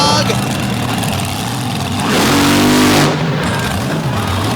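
Modified diesel pickup truck in an overdrive competition in Illinois, its engine revving hard and loud close by, rising into a heavier roaring surge mid-clip amid crowd noise and voices.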